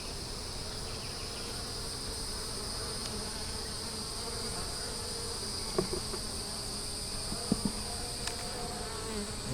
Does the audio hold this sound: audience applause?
no